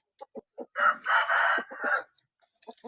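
A few short clucks, then a young rooster crows one long, strained cock-a-doodle-doo up close, followed by more soft clucking as it settles.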